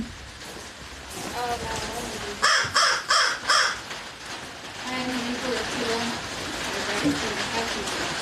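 Crows cawing outdoors at a zoo keeper talk on a rainy day, a cluster of four loud caws in quick succession over patter of rain, with people talking around them.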